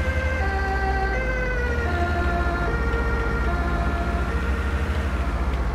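An ambulance siren in the video game Bus Simulator 16 wails steadily with rising and falling tones over a low road-engine drone, moderately loud and continuous.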